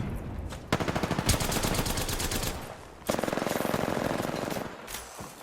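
Rapid automatic gunfire in the Apex Legends video game, two long bursts of loud, close shots in fast rhythm separated by a short pause, ending with scattered single shots.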